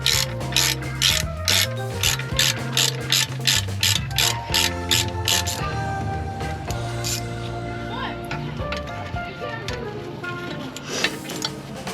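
Ratchet and socket turning an ABS sensor bolt during rear axle shaft work on a 2020 Jeep Gladiator: a rapid run of sharp pawl clicks for about five seconds, then quieter clicking at close range.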